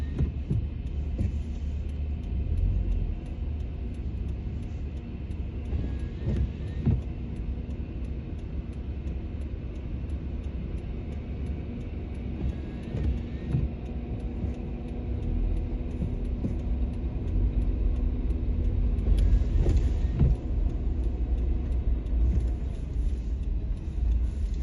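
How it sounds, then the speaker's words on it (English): Snow removal truck and tractor working side by side after a snowstorm in Montreal, a steady low engine rumble and drone that swells slightly near the end, continuous and fairly close with no talking. "The truck goes next to the tractor, and they just put the snow like that."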